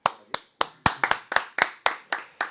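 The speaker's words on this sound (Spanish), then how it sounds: "¡Un aplauso!" Close, crisp hand clapping from a few people on a talk-show set, about a dozen distinct claps in a fairly steady rhythm with clear gaps between them.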